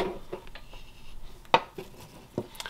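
Knife tip stabbing into a wooden hot air balloon carving, a few sharp isolated taps and clicks spaced apart, close and fairly quiet, with one louder crisp tap near the middle.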